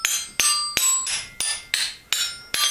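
A hammer striking a metal solenoid seven times in a steady rhythm, each sharp metallic clang ringing briefly before the next blow, close and loud with no talking.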